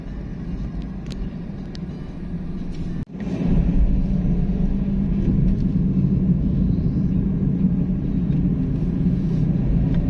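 Road traffic in Pampanga, Philippines, forms a continuous low engine rumble that dips briefly about three seconds in, then returns fuller and steady for the rest of the stretch, with no voices.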